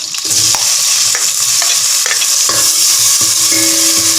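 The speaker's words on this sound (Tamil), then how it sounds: "இப்போ தக்காளியை போட்டுருவோம்." Chopped tomatoes go into a hot frying pan with garlic and are stirred while making Tamil-style chicken soup; a loud, steady sizzle runs throughout, broken by repeated close clicks and scrapes of the spoon against the pan.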